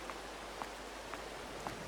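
Steady rain hisses evenly over fields in Farming Simulator 22, with a few faint drop taps standing out against the soft, continuous wash.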